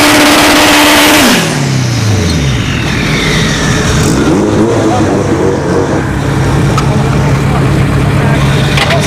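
A Turbo CRX and a Turbo RSX Type S launch side by side at a dragstrip. Engines roar loud and close, then the pitch drops sharply at a gear change and settles into a sustained drone as the cars pull away.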